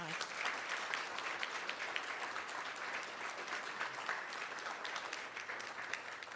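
Audience applause at an Anderson County board meeting, continuous crowd clapping at moderate level with sharp individual claps standing out and murmured voices beneath.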